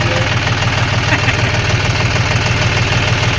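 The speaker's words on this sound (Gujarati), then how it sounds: "ટૂંકમાં ટ્રેક્ટર જો લાઈટો લપુક જપુક કરતા આવે" A tractor engine in a village setting runs nearby with a steady, rhythmic low thumping and an even level throughout. No clear rise in loudness suggests it is approaching.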